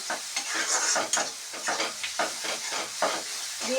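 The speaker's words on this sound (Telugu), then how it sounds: "అక్కడిక్కడ బాగా కలుపుకోవాలి." Egg curry being stirred in a pan, with a spoon scraping and clinking against the metal in repeated strokes over a steady close sizzle of frying.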